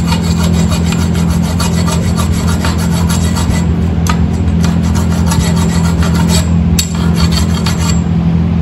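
Hand filing on a metal garage door spring pole removes burrs in a loud, continuous rasping scrape, with close, even rubbing strokes and no talk.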